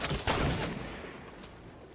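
Gunfire in a Fortnite-style battle game, loud bursts crowding the first half-second and then thinning into scattered reports that trail away over two seconds, with no talk.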